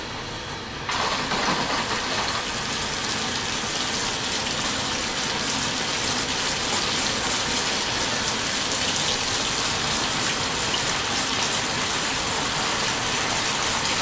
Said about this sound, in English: And filling it with water.